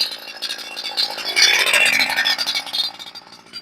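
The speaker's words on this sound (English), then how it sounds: "I'll start the saw up and warm it up for a sec before I do a couple of cuts." Chainsaw with a semi-chisel chain, freshly tuned and sharpened, just started and running at idle to warm up outdoors, a close buzzing, sputtering engine drone that swells briefly then settles, with no talk.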